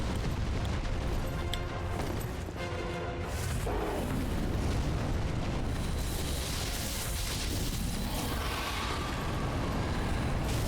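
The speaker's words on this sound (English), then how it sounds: "Then I just use my little rescind gun" A rescind gun fires in a Dark Souls 3 match with the Convergence mod, giving heavy, booming blasts and rumbling bursts that roll on loudly and continuously, with no voices over them.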